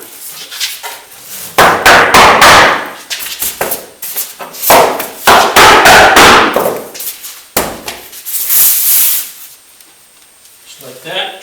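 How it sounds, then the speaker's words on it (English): Hammer tapping a foundation insulation nailing strip into place, several sharp knocks in irregular bursts with some scraping and handling noise between, close and loud. "Keep the hammer handy just in case you need to tap it in just a little bit."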